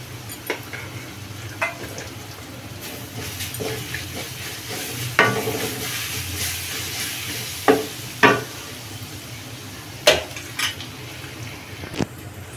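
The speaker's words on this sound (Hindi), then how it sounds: "ऐसे चला चला के लो फ्लेम पर फ्राई करना है। तेल में ही हल्दी डाल देंगे ताकि हल्दी पक जाए।" Ground spices and turmeric frying in oil over a low flame, with a soft steady sizzle and scattered scraping, clinking stirs of a spoon against the pan, no talking.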